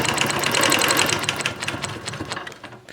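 A sewing machine quilts parallel chevron lines across a quilt block with an Every Angle ruler, its rapid steady stitching close and loud, slowing slightly toward the end.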